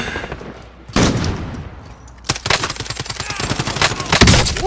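Gunfire in the video game Warzone: rapid bursts of automatic shots, loud and close, separated by short pauses, with a weapon that has heavy recoil.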